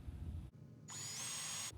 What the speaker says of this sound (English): I'll take them apart and I'll drill this now off camera.